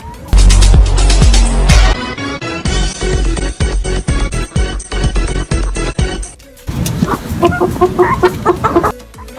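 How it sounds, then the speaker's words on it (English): Loud, close clucking from several chickens, busy overlapping calls in short bursts, with a brief pause before the flock starts up again. "I see all the chickens just standing there, like wanting to come in."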